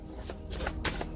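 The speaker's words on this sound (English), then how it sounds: "let's pull some clarifying cards" Tarot cards are shuffled close by in a quick flurry of soft riffling bursts, quiet and brief, with no talk.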